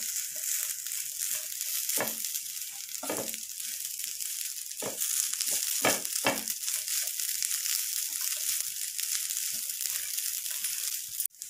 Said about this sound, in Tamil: இது 3 நம்ம நல்லா நெய்யில் வந்து 1-2 நிமிஷம் வதக்கிக்கலாம்.